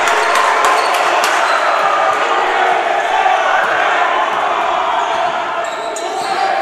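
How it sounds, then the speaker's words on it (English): A college basketball crowd roars after a dunk, a loud, sustained wash of cheering in the gym with sharp shoe squeaks and whoops on top, and a commentator talking throughout. "And that wakes the crowd up"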